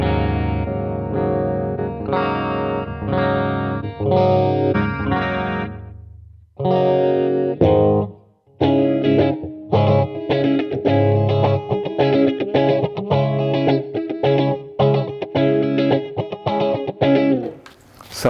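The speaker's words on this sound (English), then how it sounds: "the Headrush will only give me clean tones" Electric guitar played clean through a Headrush multi-effects pedalboard, strummed chords with a brief pause midway, then steady rhythmic strumming, loud and close.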